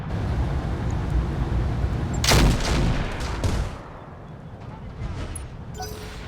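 Mech weapons firing on a building in Battletech, a loud burst of impacts peaking midway over a rumbling bed of battle noise, fading to quieter rumble afterward, with a voice speaking around it.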